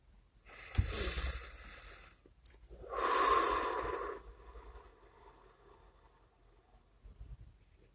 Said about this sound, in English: let's take some breaths together